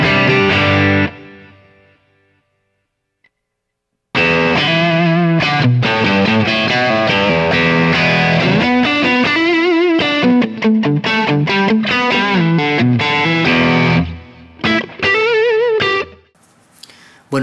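Electric guitar played through a JHS Pedals Morning Glory overdrive pedal, a brief chord ringing out, a pause, then a loud, dense run of driven chords and single notes, close and alone with no talking.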